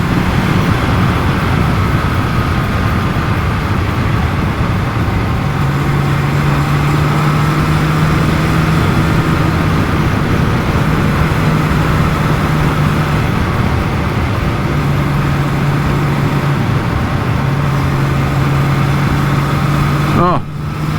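Honda CBX1000 motorcycle engine while riding, a steady sustained drone with a faint rising tone, heard with road and wind noise under the rider's voice.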